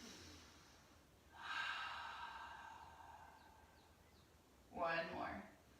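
Deep breathing during a seated yoga twist, two slow, breathy airflows, a long inhale followed after a pause by a shorter exhale, heard close and fairly soft.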